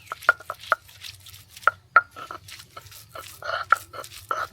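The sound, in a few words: grinding sajna and telakucha leaves on a stone slab (pata)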